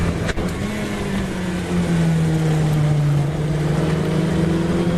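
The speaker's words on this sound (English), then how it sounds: "Stragahescu taking a much tighter line than Mitchell and Sims, who slide their car out" Historic Formula Ford racing car engines droning and revving as they pass by at Silverstone circuit, a loud steady whine with shifting pitch.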